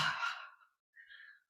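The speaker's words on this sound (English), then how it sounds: "Take a nice inhale through your nose" A slow breath drawn in through the nose during a relaxing movement exercise, soft and close, followed by a brief quieter airy exhale after a short pause.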